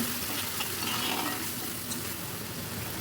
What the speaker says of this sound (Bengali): তো দিয়ে আমি মশলাটা খুব ভালো করে একটু ভেজে নেব।